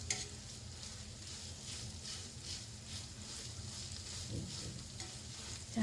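Cooked vegetables for masala pav mashed with a spoon in a pan, producing a soft, quiet, rhythmic series of dull pressing and tapping strokes over a low hiss.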